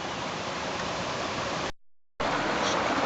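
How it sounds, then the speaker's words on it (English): Salmon Creek flowing strongly in August after months without rain, a steady broadband rush of water heard up close and loud, briefly cutting out for a moment before resuming. "And look at that water flow."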